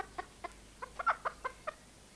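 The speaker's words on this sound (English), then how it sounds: "They have clucked and crowed under our feet for thousands of years" Soft, close clucking from a chicken, a string of short, separate clucks in an uneven rhythm against quiet background.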